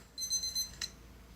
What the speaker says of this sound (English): And there was the timer.